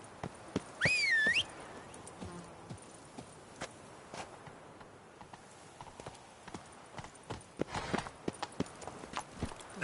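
Roach the horse walks in The Witcher 3: Blood and Wine, hooves clip-clopping in a steady, fairly close rhythm, with a brief whistle-like tone early on and no talking over the hoofbeats.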